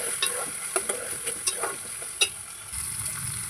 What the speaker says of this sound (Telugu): ఇప్పుడు ఇది బాగా వేగిన తర్వాత వేయించి పెట్టుకున్న వేరుశనగ గుళ్ళు, జీడిపప్పులు వేసేసాను